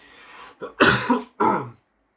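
A short series of harsh coughs close by, three or four bursts with brief gaps, then quiet.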